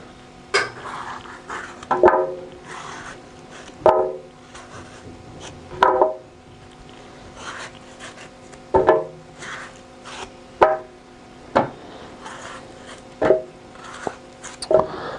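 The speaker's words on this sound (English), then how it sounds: "I'm cutting them down into smaller pieces so that it's easier for the Vitamix to blend it evenly" Fresh coconut meat, just taken out of the shell, being sliced into small pieces for blending: sharp, separate knife chops on a wooden board, a dozen or so spaced about a second or two apart, close and clear with no talk.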